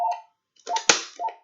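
A phone ringtone chirps in short melodic bursts, twice with a pause between, close and fairly loud, with a brief click in the middle.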